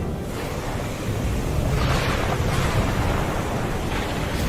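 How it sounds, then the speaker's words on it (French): Storm noise of rising flood waters and howling wind, a loud, continuous roar of rushing water and gusts that swells after the first second and stays dense throughout. "Les eaux commencent à monter rapidement. Le vent hurle."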